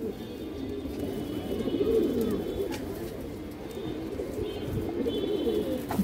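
A large silver female pigeon of an old bloodline coos close by in soft, repeated low throaty phrases over quiet background noise.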